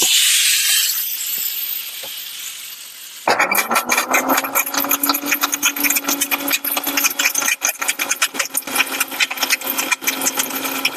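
A kitchen mixer grinder whirs as it grinds coconut for a Chettinad kavuni rice sweet, starting after a quieter stretch and then running loud and continuous with a rattling, pulsing buzz up close.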